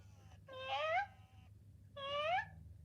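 Interactive animatronic robotic cat gives two clear, close meows in sequence, each rising then falling, separated by a short pause over a faint background hum.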